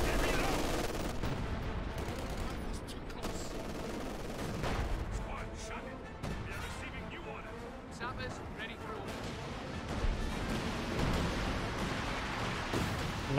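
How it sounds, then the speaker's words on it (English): Artillery barrage in the World War II strategy game Company of Heroes 2, a sustained rumble of distant explosions and scattered gunfire rolling through the battle, steady and moderately loud beneath continuous commentary. "Landmaster's barrage there."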